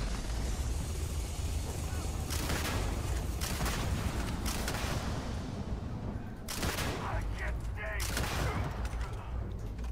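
Shotgun gunfire in the video game Starfield, loud dense blasts in bursts over a constant roaring game soundscape, with someone talking over it.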